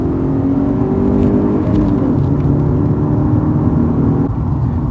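A BMW E36 318is Touring engine hums and revs close by, a loud steady whir with a slight rise in pitch, no voices.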